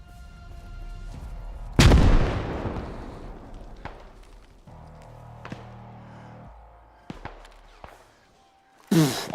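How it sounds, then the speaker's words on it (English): A grenade blast in the military shooter Arma 3 goes off with one loud, close boom that rumbles and decays over a couple of seconds, followed by a few sharper, smaller bangs and another heavy burst at the end. "let's throw a grenade"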